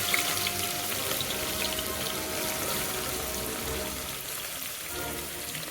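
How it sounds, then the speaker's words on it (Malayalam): Sliced onions fry in hot oil, giving a dense, continuous crackling hiss at an even, fairly loud level with no talking over it. "നമുക്കിതിലോട്ട് ഉള്ളി ഇട്ട് കൊടുക്കാം."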